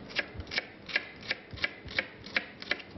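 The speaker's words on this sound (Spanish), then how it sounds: "Cortamos una shallota" A knife chops a shallot finely on a cutting board in a kitchen, about nine quick, evenly spaced crisp taps over a few seconds, fairly close and faint, with no talk.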